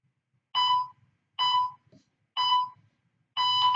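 An exercise timer sounds four evenly spaced electronic beeps in a countdown, clear and loud against near silence.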